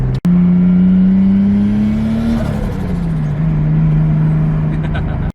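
A car engine idles smoothly and steadily close by, with a low even hum that rises briefly and then settles back.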